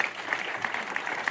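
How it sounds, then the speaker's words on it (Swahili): Audience applause after a speech at a political gathering in Kenya. It is a steady, continuous clapping wash with a few sharper claps standing out. There is no speech over it. "Tumpigie mheshimiwa makofi mazuri"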